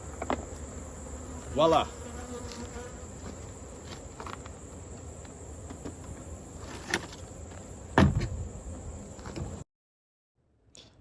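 Honey bees swarm around beehives during a honey harvest, a dense continuous buzzing close by, with a couple of louder bumps and handling noises, then abrupt silence; a voice speaks briefly.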